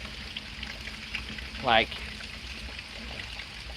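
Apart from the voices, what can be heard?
rainwater trickling from a gutter during a thunderstorm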